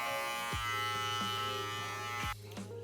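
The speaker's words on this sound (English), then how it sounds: "Now I'm gonna have the clipper fully closed." An electric hair clipper hums steadily and close through a mid bald fade, its pitch dipping briefly with each pass through the hair, and one sharp scrape comes near the end.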